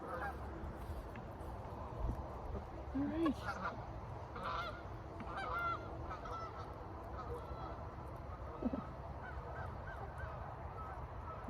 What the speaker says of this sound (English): Oh, I see a couple geese in the air there.